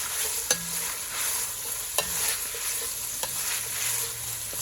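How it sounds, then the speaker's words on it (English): Green onions, carrots and celery stir-fried in a hot pan give a steady, close sizzle and hiss, broken by a few sharp clacks of a utensil against the pan. No one speaks. "And we're gonna add our vegetables."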